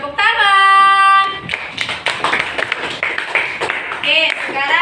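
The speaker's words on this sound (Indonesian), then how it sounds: "Tepuk tangan." A primary school class claps hands together in a short burst after a correct answer, loud and close, with children's voices and a teacher talking over and after the clapping.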